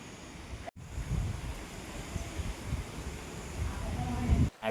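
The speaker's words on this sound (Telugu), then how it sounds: "వర్షం పడుతూనే ఉంది. గాలి చూడండి, చాలా హెవీగా ఉంది." Heavy wind gusts rush through a daylong rainstorm in Visakhapatnam during Cyclone Montha, a loud, steady roar buffeting the microphone for several seconds, with a brief dropout near the start.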